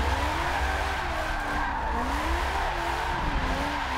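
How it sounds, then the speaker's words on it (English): Car tires squeal steadily while drifting in a driving simulator game played on a Logitech G920 wheel, a loud, continuous wavering screech over a low engine drone, with no speech. "Still roasting the tires"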